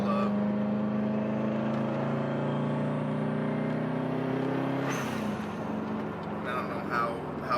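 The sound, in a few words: 2002 Subaru WRX turbo spooling up while driving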